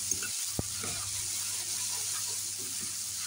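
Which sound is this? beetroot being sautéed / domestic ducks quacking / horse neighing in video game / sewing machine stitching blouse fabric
beetroot being sautéed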